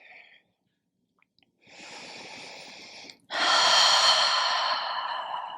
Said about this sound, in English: Deep inhales. Deep exhales here.